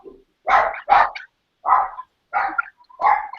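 Dogs bark in five sharp, separate bursts spaced about half a second apart, moderately close with quiet gaps between.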